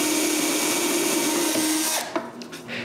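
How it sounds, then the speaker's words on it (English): An electric drill whines loudly and steadily while driving a screw into the solid walnut back of a clock case, then stops abruptly, leaving a few soft knocks and handling sounds. "I begin by drilling and screwing a screw in the center at the bottom and the top."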